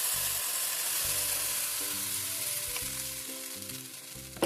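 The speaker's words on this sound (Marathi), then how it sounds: "आता तवा मस्तपैकी गरम करायचा आणि 1 चम्मच बॅटर तव्यावर एकाच" Dosa batter made from leftover rice sizzles on a hot griddle over medium heat, a loud steady hiss of frying that fills the scene with no voices.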